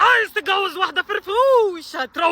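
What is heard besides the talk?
No everyday noise stands out behind the speech.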